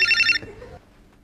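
The newest-model Motorola mobile phone rings with a bright, loud electronic ringtone for about a third of a second, then cuts off abruptly into near silence.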